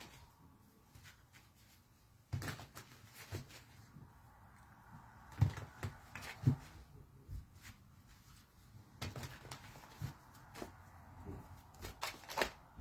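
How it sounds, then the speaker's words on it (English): Tarot cards shuffled by hand in a quiet room, heard as soft, scattered riffles and light taps coming in irregular bursts, faint and close, with no talking. "I'm just going to intuitively shuffle until I feel like I should stop"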